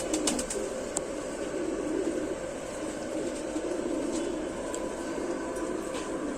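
A male pigeon bred from Rampuri pigeons crossed with a deep-coloured bird coos in a loft, soft rolling calls repeating under a low steady background, with a few sharp clicks near the start.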